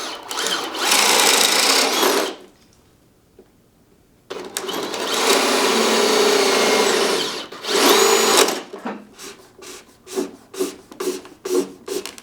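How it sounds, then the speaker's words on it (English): A power drill runs in loud sustained bursts during interior work on a seed room with spruce siding, cutting off for a quiet stretch, then starting again before ending in short stuttering pulses. "The drill won't fit in there against the wall that tight."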